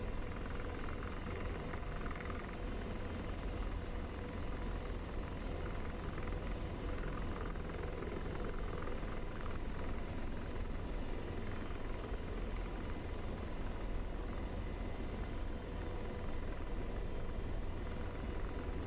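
A CH-47 Chinook helicopter passes overhead in the DCS combat flight simulator, its rotors producing a steady, dense chopping roar with engine rumble that holds loud and unbroken throughout.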